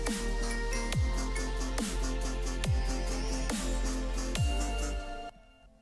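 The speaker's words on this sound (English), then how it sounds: "Ambient sound is these two omnisphere layers" Two ambient Omnisphere synth layers in a chillstep track hold sustained background harmonies beneath a steady pulsing beat with repeated low kicks, before the music drops away into near silence at the end.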